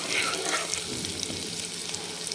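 Spices sizzle steadily in hot oil in a pan for a spicy fish curry of murrel or wamb fish, a dense continuous crackle with a few brief stirring scrapes, close and alone with no talk.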